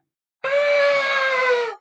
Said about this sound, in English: He turns to a blood-curdling scream from Amber.